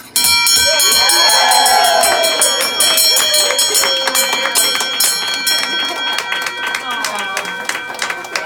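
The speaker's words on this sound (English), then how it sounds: "I ring this bell in triumph, since this was not an easy feat." A bell rung repeatedly in celebration at a bell-ringing ceremony, rapid loud clanging strikes with long bright ringing overtones, while a crowd cheers and voices are heard underneath.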